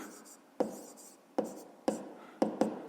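Writing on a board during a fifth-grade math lesson gives five sharp taps and strokes at irregular intervals, each a crisp knock trailing into a short scratch, fairly close with a quiet room around them.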